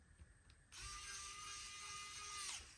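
An electric screwdriver drives a screw partway in while a Neko Smol keyboard is assembled, giving one close, steady whirring buzz of about two seconds that stops abruptly after a faint click.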